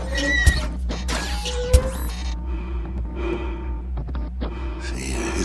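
Robot breathing effect in a radio drama: a soft, steady airy hum with two short gasping intakes early on, close and quiet with no voices.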